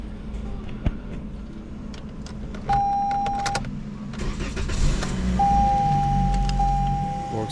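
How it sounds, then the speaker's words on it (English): A 2022 Toyota Corolla engine turns over and catches, then settles into a steady idle, with a whining electric hum and a few clicks nearby. "and it's ready to start the car"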